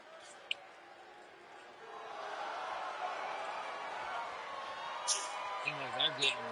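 A wrestling crowd cheers for the women of Cult of Averill, a broad distant roar swelling after two seconds and holding steady while a commentator talks over it, with a few claps and whistles near the end.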